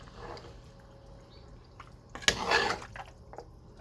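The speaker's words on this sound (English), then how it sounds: "I'm gonna add just a little bit more water." Water is poured into a pot of Jamaican curry goat, giving a short, close splash and gurgle in the middle, with quiet kitchen sounds around it and no talking.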